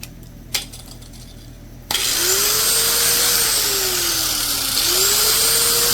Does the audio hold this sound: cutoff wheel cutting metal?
yes